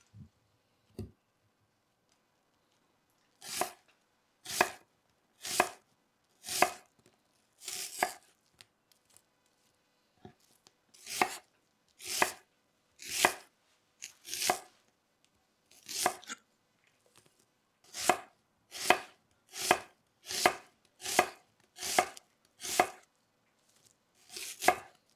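A knife thinly slicing a peeled, halved white onion on a board, crisp chopping strokes coming in quick regular runs with short pauses between, close and clear.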